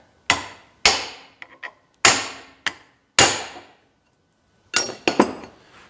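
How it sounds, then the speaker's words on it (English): Six or seven sharp metallic strikes ring out as a small chisel is hammered to break open a part on a 1940 Chevy, each blow decaying quickly, irregularly spaced with a pause mid-way, close and with no voices. "I got my smallest chisel I could find."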